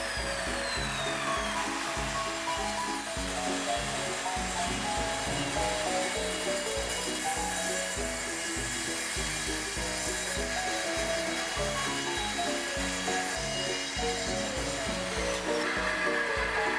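A circular saw rips through wooden boards for a hanging nightstand, making a loud, continuous whine with repeated pulsing cuts and no talking.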